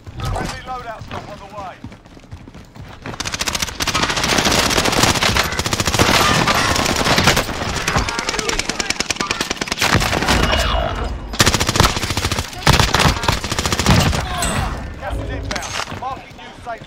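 Rapid automatic machine gun fire from the OTS 9 in Call of Duty Vanguard Warzone on Rebirth Island, loud sustained bursts and fusillades crackling over game sounds, with a player talking under the shooting.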